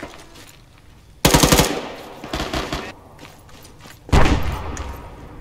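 ArmA 3 battlefield gunfire: two loud, close bursts of rapid automatic fire separated by a quieter stretch with fainter shots and rumble in between.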